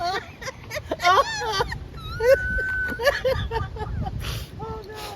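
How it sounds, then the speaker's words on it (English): A dog whimpers and yips in high, wavering cries, with one long whining tone in the middle, while people talk and laugh nearby. "There's somebody barking."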